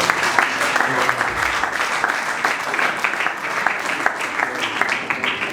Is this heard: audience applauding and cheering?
yes